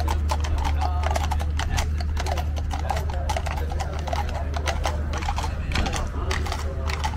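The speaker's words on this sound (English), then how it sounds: "These horses are really huge, man." Steady clip-clop of large horses' hooves on pavement at a security parade in Qatar, many overlapping beats in a brisk rhythm, with a low engine-like hum underneath throughout.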